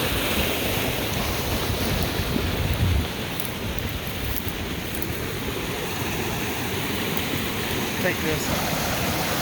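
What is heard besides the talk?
irrigation ditch water flowing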